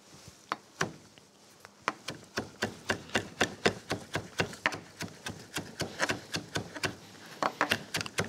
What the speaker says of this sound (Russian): рублю петрушку